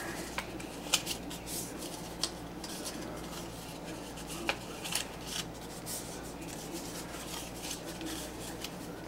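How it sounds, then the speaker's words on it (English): Paper being folded along creases while building a DigCom Designs paper trailer model: soft continuous crinkling and rustling with scattered sharp creasing clicks, close up, steady throughout with no talking. "what I do is I just go ahead and start my folding where my creases were"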